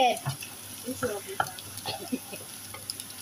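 Scrambled eggs cooking in a home kitchen pan, with a soft sizzle under repeated scraping and stirring strokes of a utensil, close by, with brief voices in the background.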